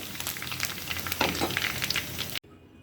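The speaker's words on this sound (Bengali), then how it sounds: "ফুচকাগুলো হয়ে গেল ভাজা।" Fuchka puris frying in oil give a busy crackling sizzle with sharp spatters, strongest in the middle, before the sound cuts off abruptly near the end, with no voices.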